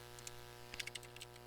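Keys tapped on a computer keyboard while typing an SQL command, a handful of quick, light clicks in an irregular burst over a steady low hum.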